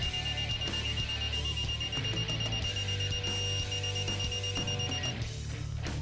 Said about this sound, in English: As you approach the program torque setting, the buzzer sounds and the LED light will brighten.